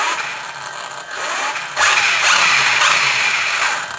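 A sensored electric motor in a radio-controlled NASCAR car runs with a steady mid-pitched whine that rises and swells partway through, close and alone with no voices.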